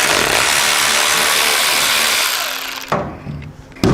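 Power driver whirring loudly and steadily up close while backing out a Torx 30 screw on a Harley-Davidson Sportster S skid plate, then cutting off into a few clacks and a brief final burst.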